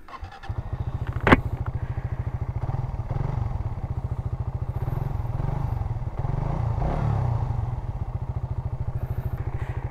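A Suzuki Raider 150 Fi motorcycle fitted with a UMA spark plug and ignition coil runs close by at a steady, rapid idle-like putter, its even pulses broken once by a sharp clack.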